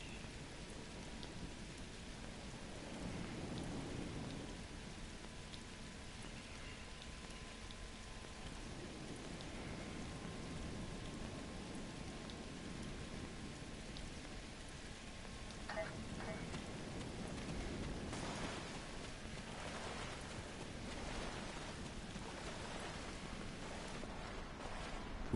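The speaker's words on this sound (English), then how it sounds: "Wow, rain on RISA" Steady rain pours across the resort world of Risa in Star Trek Online, a constant wash of downpour with a few heavier gusts and possible faint rumbles partway through.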